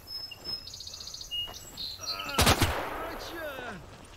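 Gunfire in the WWII strategy game Call to Arms: Gates of Hell, including a sharp cluster of near shots in the middle. Birdsong and chirps sit in the background, and scattered fainter shots are heard.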